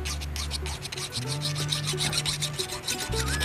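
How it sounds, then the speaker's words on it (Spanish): A hand file rasps burrs off the cut edge of a stainless steel sheet in quick, even back-and-forth strokes, close and steady over a low hum. "Ahora vamos a sacarle los filos del corte con la lima"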